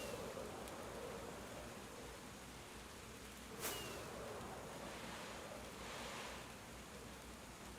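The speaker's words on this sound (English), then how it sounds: "So that's like a rainstorm that you're hearing in the background." Heavy rain outside a window, picked up by a mic at the glass as a steady broadband whoosh, constant and fairly soft, with one brief sharper tick partway through; no voices.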